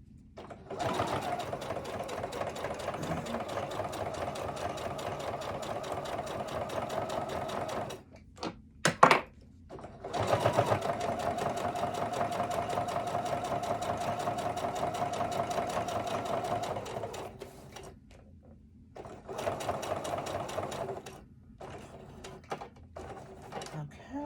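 A sewing machine stitches around a notepad in long steady runs, a fast even whirring hum broken by short pauses and a clunk or two, close and fairly quiet.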